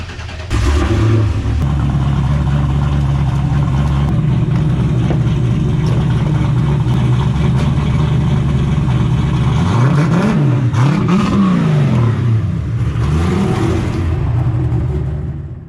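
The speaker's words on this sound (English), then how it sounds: "get the car out, get it fired up, get it warmed up" A race car engine with a new Holley setup fires up and revs loudly several times, rising and falling in pitch over a steady rumbling idle, heard up close with no talking.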